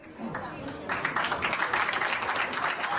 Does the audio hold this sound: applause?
yes